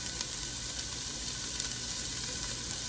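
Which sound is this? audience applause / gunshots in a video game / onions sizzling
onions sizzling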